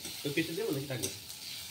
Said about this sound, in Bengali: এই যে আর একটা ভাজছি